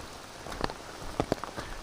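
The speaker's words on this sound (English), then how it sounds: "Let's continue to move forward here in the rain." Rain falls on a trail on the Appalachian Trail in cold drizzle, a soft steady patter with a few distinct drops tapping close by, faint overall.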